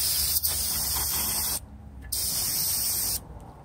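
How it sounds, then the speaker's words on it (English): Brake cleaner from an aerosol can hisses onto a used big brake caliper in two long, loud bursts separated by a brief pause, close up and with no talking. "take the brake cleaner and obviously just spray it off"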